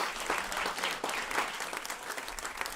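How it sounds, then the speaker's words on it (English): An audience at a Climate Week NYC event applauds steadily, with dense, continuous clapping throughout at moderate volume and no voices over it. "Please give him another round of applause."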